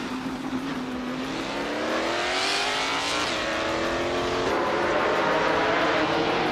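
A 2010 Opel Corsa racing in a driving video game, its engine note climbing steadily as it accelerates, loud and continuous with a rising whine and no talk.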